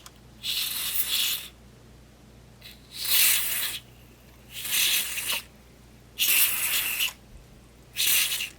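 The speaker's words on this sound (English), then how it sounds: "I'm going to just spray a little bit of this in here, and hopefully we don't wreck anything." An aerosol can, labelled safe for circuit boards, sprays into an unplugged Rhapsody RY-611 multi-band radio in five separate hissing bursts, each about a second long with short pauses between, close to the microphone and otherwise quiet.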